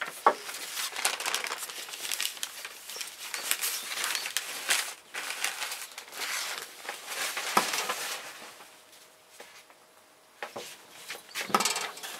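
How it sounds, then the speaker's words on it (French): Sheets of paper are handled and swapped during a Chinese cursive calligraphy lesson, giving close, continuous crinkling and rustling with a few sharper crackles and a brief quieter lull near the end. "Je change de papier pour terminer quand même la page entière."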